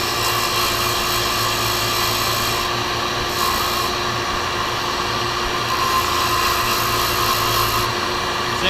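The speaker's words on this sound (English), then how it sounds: "If nobody else is sanding, turn off the dust collector." Steady, loud broadband whoosh of a workshop dust collector running continuously, with faint rubbing and scraping sounds layered on top.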